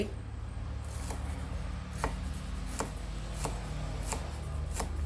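A knife slices through food on a cutting board, with about seven crisp, evenly spaced taps over a low steady background hum, close and fairly quiet.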